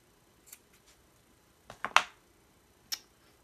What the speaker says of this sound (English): so I'm going to cut the ends off.